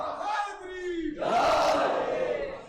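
A crowd at a Shia majlis religious gathering chants a slogan in unison, first a single voice calling out, then many voices answering together, loud and sustained.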